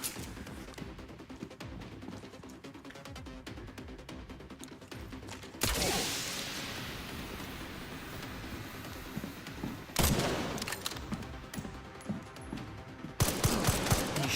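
An enemy fires through a wall in Resident Evil Requiem, with several sudden bursts of gunfire breaking into quieter game ambience, each burst followed by a rough, sustained wash of noise.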